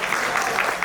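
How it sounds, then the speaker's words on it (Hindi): Audience applause in a Hindi poetry gathering, welcoming poet K K Agnihotri to the stage: a brief, steady burst of many hands clapping at close range with no talk over it. "एक बार जोरदार तालियां बजाकर के अग्निहोत्री जी को आमंत्रित करें।"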